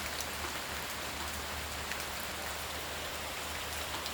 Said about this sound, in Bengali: শব্দও শোনা যায়, বৃষ্টির শব্দ।